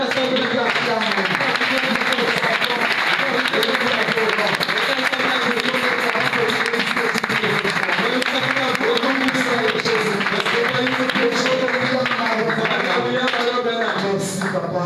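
A church congregation applauds after a prayer with loud, sustained clapping from a large crowd. A voice speaks over the applause throughout.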